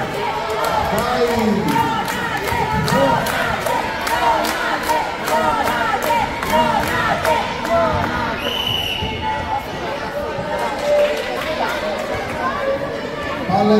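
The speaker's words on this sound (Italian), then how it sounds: "Un po' di tifo, dai! Andiamo con le mani, facciamoci sentire!" A lively crowd at a Palio del Seprio ball game between Lonate and Ceppino cheers, chants and claps in a dense, continuous roar, with voices shouting close by.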